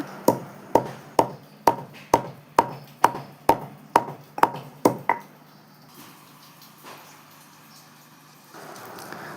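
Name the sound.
pounding cardamom pods into powder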